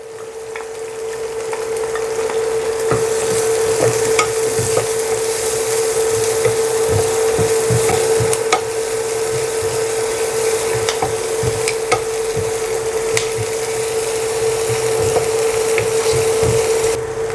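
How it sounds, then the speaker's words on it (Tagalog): Garlic and white onion sautéing in a pan for shrimp fried rice: a loud, continuous sizzle close by, with scattered scraping and tapping of a spatula as the aromatics are stirred, no talking. "igisa natin yung garlic and white onion"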